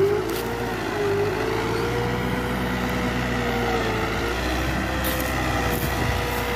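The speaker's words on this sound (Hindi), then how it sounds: "अब देखियो अब क्या चलेगा ट्रैक्टर भर के पूरा तगड़ा जतरा लेके।" New Holland 7500 tractor hauling a heavy 8-foot leveler across a field, a steady, moderately loud engine drone with a faintly wavering pitch that runs unbroken throughout, no voices.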